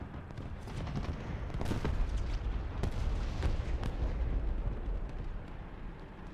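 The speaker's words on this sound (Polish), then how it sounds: "Jeszcze tam jeden strzał, ale raczej chybie." A deep, rumbling tank cannon blast from a video game rolls through, followed by a sustained low roar and scattered distant booms, with no voices.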